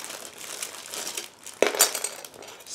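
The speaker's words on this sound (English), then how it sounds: "Now I'm opening the next plastic bag" A plastic bag from an Aoshima 1/24 Nissan GT-R (R35) model kit is opened up close, giving a steady soft crinkle with one sharper rustling crackle partway through.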